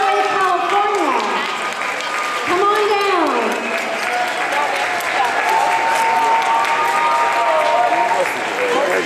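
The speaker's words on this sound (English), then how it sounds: "cheering for their favorite groomer" An audience at a creative pet grooming competition claps and cheers steadily and loudly throughout, with whoops rising and falling over the applause.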